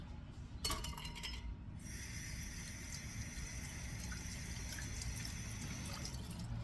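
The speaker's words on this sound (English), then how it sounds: "Now they want you to rinse these." Tap water runs steadily over green beans being rinsed of salt in a home kitchen, with a few glassy clinks near the start followed by an even, continuous splashing stream.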